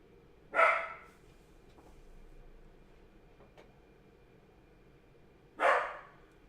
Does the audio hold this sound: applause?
no